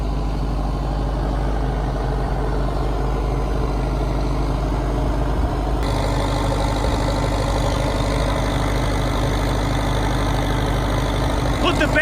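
Heavy machine engines idle stuck in mud with a steady, loud low-pitched rumble that continues unbroken throughout, with a slight shift in tone partway through.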